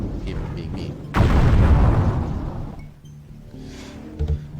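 A deep, heavy earthquake rumble in the dark fantasy game Hexen hits suddenly with a loud boom, then rolls on and slowly fades over several seconds, with a faint thud near the end.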